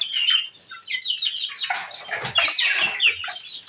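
Purple swamphens kept on a farm in Sadarpur give a continuous run of harsh, clucking, squawking calls, close and fairly loud, with no talk.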